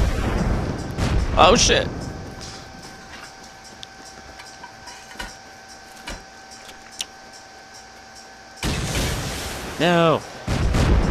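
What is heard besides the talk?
incendiary rocket launcher explosions in the video game Rust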